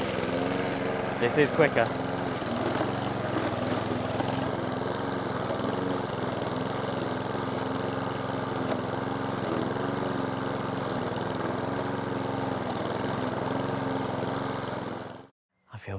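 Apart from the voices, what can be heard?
lawn mower running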